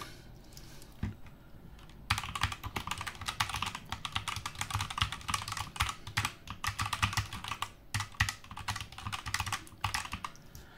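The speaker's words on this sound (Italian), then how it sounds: "Il suono è il classico suono degli switch rossi" Steady typing on a MageGee STAR61 mechanical keyboard with red switches, a dense, close run of soft keystroke clacks with brief pauses, heard alone.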